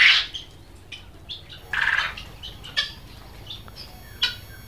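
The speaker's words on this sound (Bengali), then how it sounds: "দেখেন কোয়েল পাখিগুলা কি সুন্দর।" Japanese quails on a poultry farm give sparse, sharp chirps and squawky calls, a few separate bursts spread over a few seconds above a quiet, low background hum.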